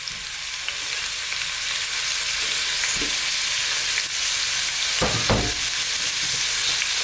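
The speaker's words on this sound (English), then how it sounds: "I'm just going to fry this for about 4 to 5 minutes, just on its own." Bitter gourd pieces frying in hot oil in a pan for a vegan Indian karela sabzi, a steady close sizzle throughout with a couple of soft thuds of movement, no talking.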